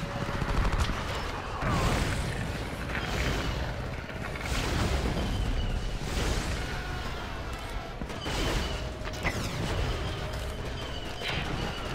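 Rapid bursts of machine gun fire crackle repeatedly amid explosions and chaotic battle noise in Star Wars Battlefront II, dense and continuous.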